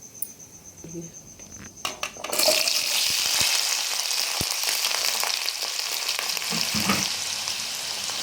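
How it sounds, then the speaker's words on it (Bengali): Small-diced medium potatoes drop into hot oil: after a quiet start with a few faint clinks, a loud, close crackling sizzle bursts in and holds steady to the end. "আলুগুলো আমি এখন ভালো করে একটু ভেজে নেব।"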